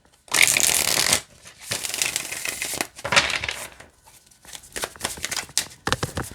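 Tarot cards are shuffled close up in several quick riffling bursts, crisp and papery, with short pauses between them.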